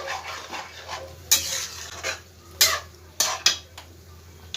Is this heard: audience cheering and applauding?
no